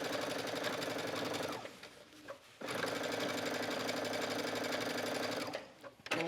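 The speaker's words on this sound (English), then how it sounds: "let's just stitch a little bit of this one" Sewing machine stitching a blind hem on a skirt with lace, a close, loud rapid mechanical whirr running in two long bursts with a short pause between them.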